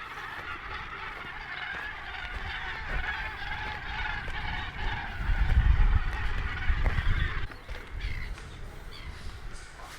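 Seabird colony at Bird Island, Lambert's Bay, a dense chorus of honking, raucous calls from many birds, steady and fairly close, with a low rumble of wind or movement swelling midway.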